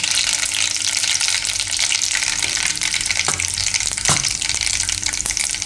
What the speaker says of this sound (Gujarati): તેલ આપણું હવે ગરમ થઈ ગયું છે. તો એમાં આપણે પહેલાં રાઈ નાખીશું. થોડુંક જીરું નાખીશું.